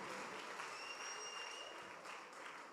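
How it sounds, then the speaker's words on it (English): Audience applause fills the hall for a woman at an event, steady dense clapping throughout with a faint tone or two riding above it. "Let's give her a big round of applause"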